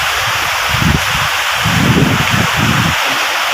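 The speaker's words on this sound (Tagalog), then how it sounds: "Sobrang lakas ng hangin." Strong storm wind in Pampanga during heavy rain roars as a steady, loud broadband rush, with deeper gusts surging and fading underneath.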